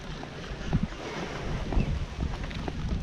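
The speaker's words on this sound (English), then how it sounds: "And we got a crosswind." Strong crosswind blows across a hilltop at an RC plane runway in Davie, Florida, a steady, close rush of microphone buffeting with no one speaking.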